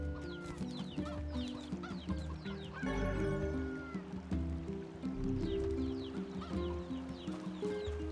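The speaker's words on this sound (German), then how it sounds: "Kann ich die Hühner töten?" Chickens cluck and squawk in the NieR Replicant video game, several birds calling in quick irregular bursts over a steady layered game music bed, fairly faint throughout.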